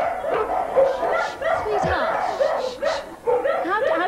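Small dogs yapping and whimpering in an excited, broken series at close range, mixed with overlapping voices and chatter on a 1991 television surprise show set.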